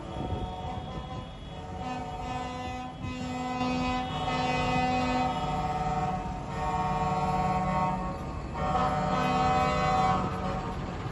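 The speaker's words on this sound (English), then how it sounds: "they're tying up an overpass and honking" Tractors of German farmers blocking an overpass sound their horns in a protest, with many sustained, overlapping honks layered in a steady, loud blare that swells and shifts over about eleven seconds.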